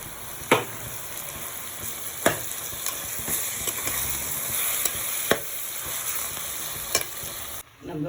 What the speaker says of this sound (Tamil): வெங்காயம் தக்காளி வதங்கிடுத்து இப்போ நம்ம மதித்து வச்ச கத்திரிக்காவை இதில் சேர்த்துக்கலாம்.